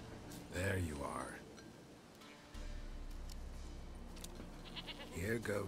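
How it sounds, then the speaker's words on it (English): Goat bleats from The Witcher 3 game world come in two short bursts at the start and end, quavering and fairly close, over low ambient rumble with a voice talking nearby. "Here, goat."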